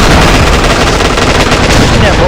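Rapid automatic gunfire roars continuously in a shooter video game, dense and very loud, filling the whole stretch without a break.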